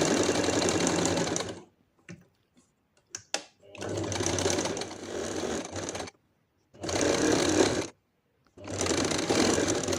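Sewing machine stitching flower motifs in yellow thread onto a saree, running loud and close in several steady bursts separated by short pauses, with faint handling clicks between runs.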